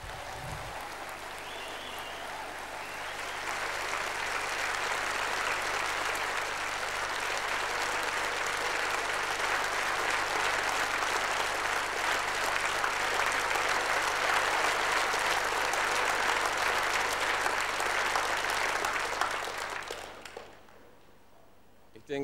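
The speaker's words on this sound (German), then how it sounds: "dieser Applaus galt uns allen." A crowd at a German-language political speech breaks into long, sustained applause that swells and holds as a dense roar of clapping for nearly twenty seconds, then quickly dies away.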